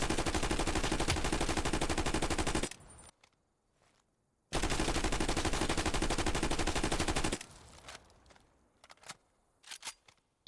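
Automatic weapon fire from an unmodified gun during a recoil test in Call of Duty Cold War and Warzone: two sustained bursts of rapid shots, each about three seconds, divided by silence, with a few faint clicks afterward.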